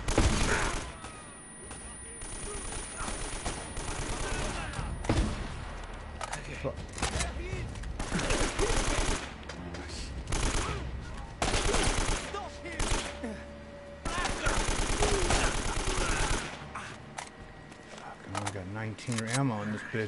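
Submachine gun fire in Uncharted: Drake's Fortune crackles in dense, rapid bursts almost without a break, mixed with loud in-game combat and impacts, with voices talking over the shooting.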